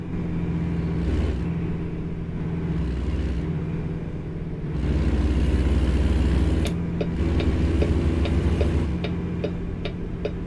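Railway crossing bell dinging in American Truck Simulator on a Texas road, a steady run of evenly spaced metallic dings over the loud rumble of the truck engine, which surges partway through.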